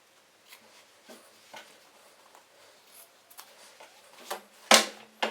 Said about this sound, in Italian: vado a tagliare il rettangolo di rinforzo lasciando circa 1 cm tutto intorno alle cuciture